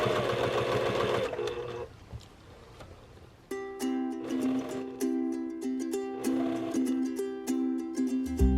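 A sewing machine chain-pieces Dresden plate quilt blocks in short bursts of quick, rhythmic stitching: a brief run, a pause of quiet handling, then several faster runs separated by short breaks.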